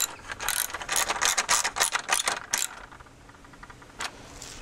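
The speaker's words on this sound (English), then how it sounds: "Now this part here actually clicks onto the awning, this little bolt, like this" A small bolt on a motorhome awning leg clicks and ratchets into place, a rapid run of metallic clicks for about two seconds, then a lone click a moment later, close to the microphone.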